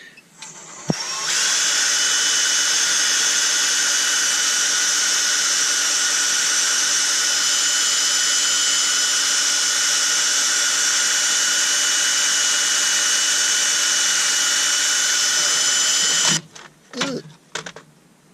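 A new Ryobi cordless power drill whirs loudly at a steady high pitch for about fifteen seconds during woodturning, then stops, followed by a few short clunks and scrapes.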